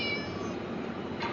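A kitten meows in the Scary Teacher 3D video game, a couple of thin, plaintive mews over a steady game background hum, with no one talking.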